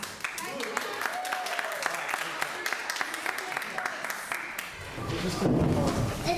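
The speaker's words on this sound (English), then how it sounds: "You can applaud for Dr. Boss twice in just a minute" An audience at a vocal music performance claps in a dense, sustained patter of many hands that swells toward the end.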